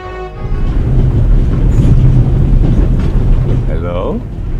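A train runs at full speed in the video game The Raven, a dense, loud rumble and roar that fills the whole clip and ends with a falling tonal screech.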